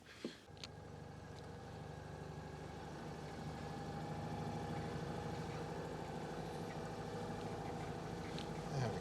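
A parked-up Daewoo Matiz engine, left standing for weeks, catches after a brief crank and settles into a steady, fairly quiet idle that runs on evenly.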